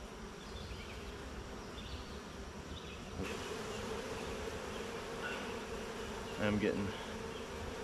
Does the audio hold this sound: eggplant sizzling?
no